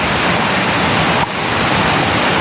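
Siriphum waterfall at Doi Inthanon in Thailand roars close by as a loud, unbroken rush of falling water with no voices.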